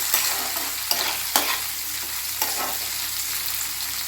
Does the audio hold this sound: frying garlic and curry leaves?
yes